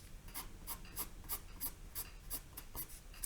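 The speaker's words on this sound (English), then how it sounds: "I'm going to add a little bit of a darker value" Graphite pencil making quick, repeated shading strokes on paper, a steady rhythm of about ten short scratchy strokes, close and fairly quiet, with no talking.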